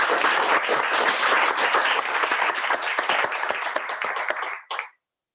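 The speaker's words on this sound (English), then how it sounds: "we can give a round of applause for Professor Murphy" A large audience applauds a keynote speaker, Professor Michelle Murphy, at the AusSTS 2021 seminar in Melbourne. Dense, steady clapping runs for several seconds, then thins and stops abruptly with a last brief burst.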